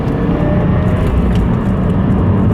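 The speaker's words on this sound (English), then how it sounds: "The exhaust gets a little bit louder when you put some boot into it." Exhaust of an MRT Performance-modified 2015 Subaru WRX under hard acceleration, a loud, steady low rumble and drone that stays dense and constant throughout from inside the car.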